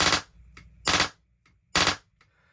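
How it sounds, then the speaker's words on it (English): An airsoft gun fitted with a Backdraft Catalyst trigger board firing in three-round burst mode, producing three loud, rapid mechanical bursts at nearly even intervals, each with faint clicks in between. "release the trigger, and now it should be in 3-round burst"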